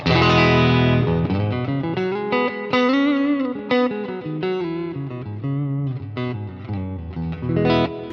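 An overdriven electric guitar, a Telecaster-style model, plays chords and single notes through a Fender Deluxe Reverb tube amp, warm and slightly distorted, loud and close, with reverb trailing each phrase.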